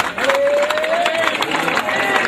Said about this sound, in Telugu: అందరూ గట్టిగా చప్పట్లతో